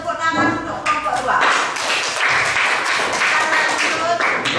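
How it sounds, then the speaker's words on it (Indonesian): Applause and clapping break out for a classroom group presentation, a dense patter of hands filling the room under some talking voices. "Kasih tepuk tangan untuk kelompok 2."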